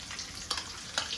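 Chopped garlic sizzling and frying in hot oil in a pan for pasta, a steady crackle with two brief louder spits, close and alone.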